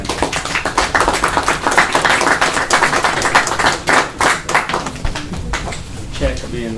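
Meeting attendees at a county commissioners meeting give a round of applause, a few seconds of dense, close clapping that thins out toward the end, with voices talking over it.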